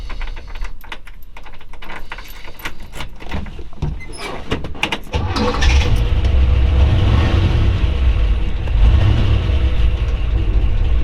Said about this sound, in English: You can hear the solid lifters.